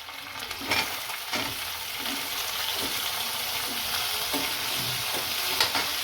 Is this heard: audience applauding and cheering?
no